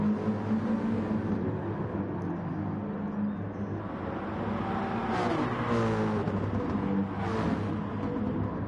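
Several GT race cars in a sim racing game roar closely together at Lago Maggiore, engines droning steadily with rising revs as one car pulls alongside to overtake another.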